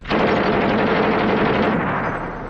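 Dense, sustained burst of rapid gunfire, loud and close, filling the whole moment with continuous crackling shots and no voices.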